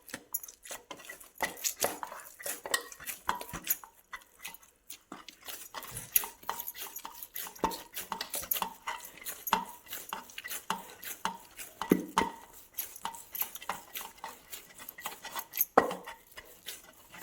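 Chapati dough is mixed and kneaded in a bowl, giving soft, irregular tapping and scraping with faint clinks, close and fairly quiet, without any talking.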